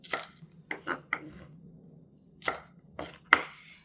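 Green pea pods are cut in half on a board with a knife, six or so separate crisp chops close by, spaced by short pauses, with no voice.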